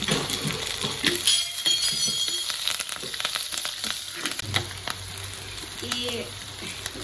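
Curry leaves and sliced green chillies crackle and sizzle in hot oil in an old fish-curry pan for a Kerala fish curry, a steady close hiss broken by sharp popping bursts and a clink or two of stirring.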